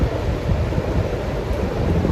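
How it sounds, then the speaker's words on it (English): Loud, rushing wind at Barry Island, Wales, buffeting the microphone, a constant low roar with no breaks and no voices. "So it looks a bit windy today"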